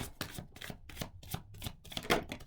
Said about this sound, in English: I'll do 3 shuffles, 2 more.